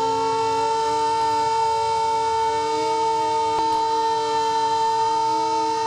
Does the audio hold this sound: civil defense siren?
yes